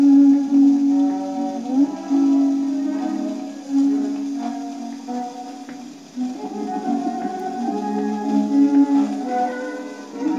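A 78 rpm record, cracked entirely through, plays an old tune, with steady surface hiss and crackle over continuous music lasting the whole stretch.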